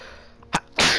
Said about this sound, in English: I had to sneeze real quick.